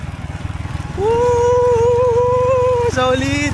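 Motorcycle engine running steadily while riding outdoors, a close, continuous drone with a rising whine that holds and then drops near the end, with a voice briefly shouting over it.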